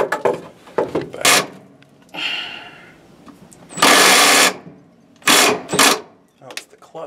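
A power drill whirs in several short, loud bursts, spinning up and stopping, with people talking between the runs.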